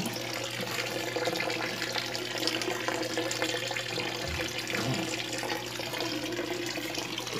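Water runs continuously from a homemade filter into a home aquarium, a steady close trickle and splash with no talking.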